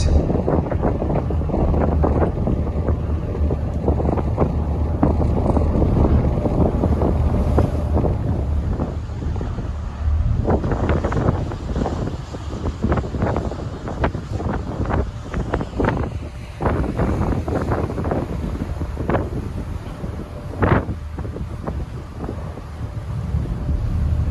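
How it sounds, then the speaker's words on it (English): A small car ferry crossing to Ocracoke Island on North Carolina's Outer Banks, its steady engine drone and water wash buried under heavy, continuous wind buffeting on the microphone throughout. "Not a very big ferry, comparatively to some I've been on."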